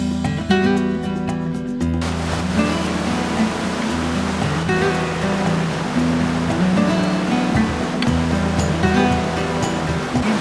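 The muddy, turbulent Indus river in Ladakh rushes past in a loud, continuous roar of churning water. A steady wash fills the whole stretch, with no voices.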